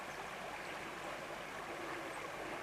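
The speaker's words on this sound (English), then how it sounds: "Little stream." A small, fast-flowing trout stream runs over rocks beside a rocky riverbank, making a constant, full rushing and burbling wash with no pauses, steady and close.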